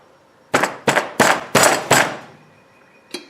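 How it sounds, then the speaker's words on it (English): Five sharp metallic bangs in quick succession as a hammer punches the knockout from the top of a metal electrical box, each ringing briefly, followed by a pause and one lighter final tap. "So we're just going to punch this top off."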